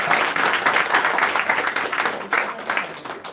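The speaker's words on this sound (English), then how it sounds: "We shall all give a good applause for the children" At a sixth anniversary celebration, an audience applauds the children in a steady, lively round of clapping that swells and dips slightly.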